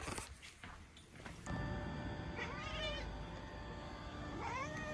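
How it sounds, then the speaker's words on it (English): Outdoor cats meow repeatedly during a food delivery round, several close, insistent calls overlapping at moderate volume with faint background noise. "Here we go with the outdoor kitties."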